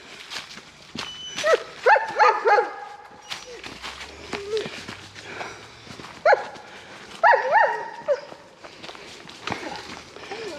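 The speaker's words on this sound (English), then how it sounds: "Some old doggy at this campsite isn't too happy we're walking along here" At a campsite beside a wooded path, a dog barks in short bursts of several sharp barks at a time, separated by pauses, with footsteps crunching along the trail in between.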